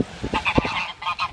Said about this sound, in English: Proper attack dogs, these geese.